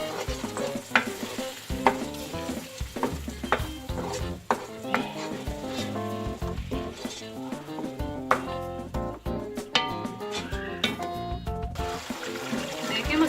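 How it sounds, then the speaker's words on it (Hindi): Onion, garlic-ginger paste, salt, chili, turmeric, coriander and a bay leaf frying in a pan for paye, with a steady sizzle and repeated stirring scrapes beneath tonal background music. "मसाला भून रहा है। इसमें मैंने तेज पत्ता भी शामिल कर दिया है।"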